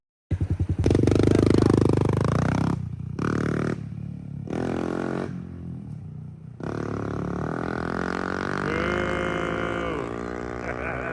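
A dirt bike engine roars loud and close in the Glamis sand dunes, revving hard with sharp throttle bursts and brief cutoffs while attempting wheelies, then settling into a sustained high drone.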